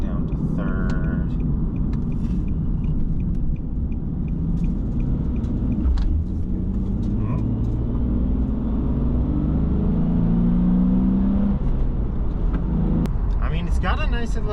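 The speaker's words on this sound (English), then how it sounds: "It's got a nice little purr to it. It's only a V6." A 2014 Nissan 370Z V6 drones steadily from inside the cabin, its engine note climbing in pitch as it accelerates through the gears, a low continuous rumble with a person talking over it.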